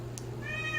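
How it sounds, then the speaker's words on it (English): A cat shut out behind a door gives a single drawn-out meow that starts partway through and rises slightly. It sounds muffled and fairly quiet over a low steady hum. "So you'll probably hear her meowing in the background"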